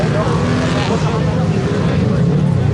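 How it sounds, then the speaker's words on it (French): Touring race cars of up to 4 litres, including a Peugeot 208, at a Plouay race final, a loud continuous engine roar close by, steady and dense across the whole moment. "les voitures de tourisme, jusqu'à 4 litres de cylindrée"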